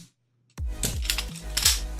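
Black Velvet balisong trainer V2 being flipped, a brief hush followed by a quick run of crisp metallic clicks and clacks as the handles swing and latch, close and fairly quiet with no talking.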